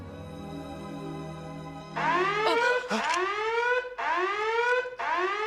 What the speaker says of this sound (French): C'était mon alarme virginale.